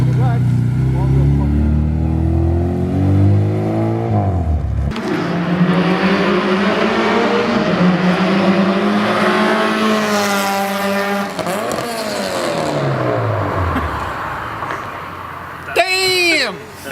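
A K-swapped Honda Civic engine running loud and close, revving up and down repeatedly with rising and falling pitch, with people talking over it.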